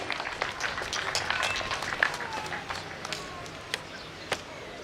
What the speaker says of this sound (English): more hands of applause to the guest of honor